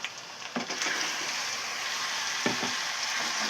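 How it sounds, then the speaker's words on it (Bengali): Spice-marinated meat is poured into a pan of spice paste already frying, raising a steady, loud sizzle with a few stirring scrapes near the start and again midway. "এবার আমি গোশের যে মাখাটা ছিল মশলা দিয়ে ওটা এবার আমি ঢেলে দিব"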